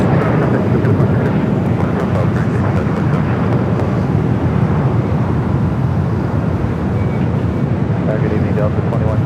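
A six-year-old Iberia Airbus A350-900 arriving at Los Angeles LAX from Madrid gives a loud, steady broadband jet roar that holds strong for the whole stretch.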